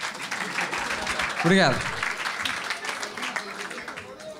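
Audience applause for a comedian at a stand-up comedy night, steady clapping through the clip while a voice speaks over it.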